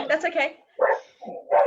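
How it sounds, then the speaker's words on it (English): A dog barks indoors in a few short, close bursts, mixed in with a person speaking briefly. "Sorry, that's my dog."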